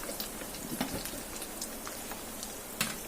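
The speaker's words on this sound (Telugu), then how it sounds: "అండ్ ఇవన్నీ వేసిన తర్వాత కొంచెం ఫ్రై అవనిద్దామండి." Chana dal and coriander seeds frying in a pan for coriander tomato chutney, a soft steady crackle and patter of light sizzling with scattered pops, fairly faint and without speech.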